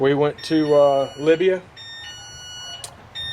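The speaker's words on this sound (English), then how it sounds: "That's our alarm" A high electronic alarm beeps in steady tones behind a man's speech, continuing faintly once he pauses.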